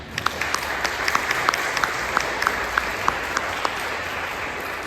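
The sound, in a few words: congregation applause welcoming guests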